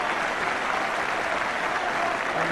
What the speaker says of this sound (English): most of the applause is for the number 10